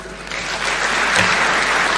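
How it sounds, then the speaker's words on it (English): Audience applause after a speaker at a formal political address, a dense, sustained clapping from a large crowd building slightly and holding steady. "Let's give him a warm thank you clap."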